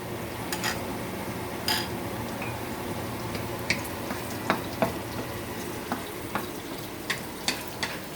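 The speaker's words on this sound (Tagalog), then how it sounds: "Na ginisa niya yung bawang at sibuyas, Bombay." Garlic and onions sauté in a hot pan, a steady sizzle broken by scattered sharp pops and crackles at an uneven rhythm.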